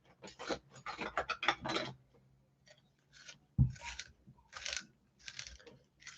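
A pencil being sharpened by hand, giving a series of short gritty scraping bursts, closely spaced at first and then in separate strokes after a pause, with one sharp thump partway through, close and fairly quiet.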